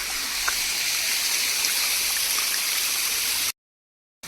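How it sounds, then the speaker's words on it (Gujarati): Mountain waterfall and stream near Lonavala, heard as a steady, dense rush of falling water that fills the air without a break, then cuts off abruptly to silence near the end. "ઝરણું છે અહીંયા વોટરફોલ"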